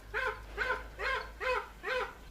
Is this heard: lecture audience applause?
no